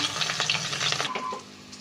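Onion paste frying in a pan for a fish curry, a dense crackling sizzle with quick stirring scrapes that settles into a softer, quieter hiss partway through.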